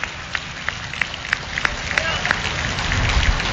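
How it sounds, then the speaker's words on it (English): A crowd gives a round of applause at a 9/11 fifth-anniversary radio broadcast, with a few sharper claps standing out of a dense wash of clapping under a steady background roar. "I think you all deserve a round of applause."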